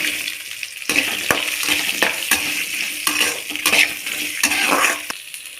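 Onion sautéing in a pan for horsegram chutney: loud sizzle and frying hiss broken by repeated scraping stirs and clinks of a spoon against the pan, with no talking.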